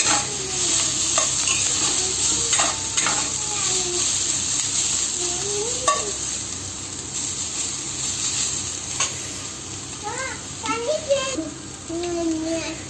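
Vegetables fry lightly in a pan while being stirred, a continuous close sizzle with occasional scraping strokes, ahead of adding chow mein noodles; someone talks and a voice chimes in over the cooking.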